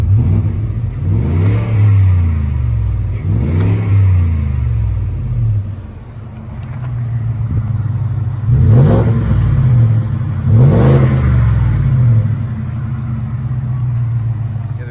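A 2019 Ford F-150 pickup on 33-inch BFGoodrich KO2 tires with a 2-inch leveling kit, its engine revved repeatedly, deep rumbling swells rising and falling over a steady idle, close and loud with no talk.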